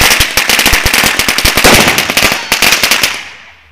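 Firecrackers burst in a rapid, loud string of sharp cracks outdoors at a New Year's Eve celebration in Slovakia, then the popping stops abruptly and fades into quiet.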